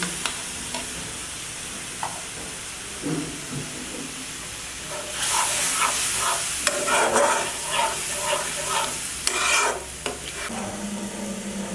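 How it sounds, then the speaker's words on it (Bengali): Masala being sautéed in a pan for doi mogoj crackles softly at first, then swells into louder sizzling with scraping, clattering stirs in the middle before settling again, with no speech. "মশলাটা আমি একটু ভালো মতো কষিয়ে নেব।"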